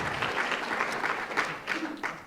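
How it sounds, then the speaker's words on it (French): An audience at a French panel talk on digital technologies applauds a speaker, a sustained burst of clapping close and fairly loud, with a few individual sharp claps standing out near the end. "Vous pouvez déjà l'applaudir."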